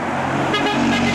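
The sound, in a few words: replacement bus horn toot from the driver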